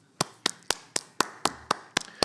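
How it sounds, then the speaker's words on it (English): About eight slow, evenly spaced handclaps, close and crisp, as if from a single person applauding during a live football watchalong to welcome Coventry City. "Round of applause for Coventry"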